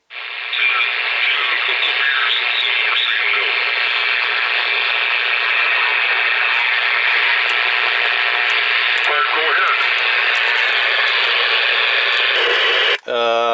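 A RadioShack TRC-485 CB radio plays a steady, loud band-limited stream of garbled voices and hiss through its speaker, with a brief dropout and click near the end.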